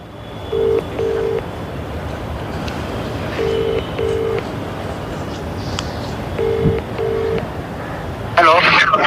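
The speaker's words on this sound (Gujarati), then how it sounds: "આપણે ફરીથી પાછા ફોન કરીએ એમને." A phone keypad sounds short dual-tone beeps in three quick bursts of two while a call is redialed, over steady background hiss, with talk nearby.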